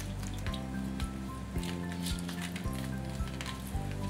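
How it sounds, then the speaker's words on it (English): Juice from half a lemon drips onto salmon and sliced onions, giving soft, scattered drops and faint wet ticks against a quiet background. "Next, the juice of half a lemon."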